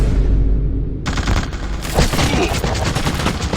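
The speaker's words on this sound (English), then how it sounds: "He's got a mounted machine gun in his office" A mounted machine gun fires in the horror video game The Suffering, a loud rapid stream of shots that starts abruptly after a moment of low rumble and keeps hammering steadily to the end.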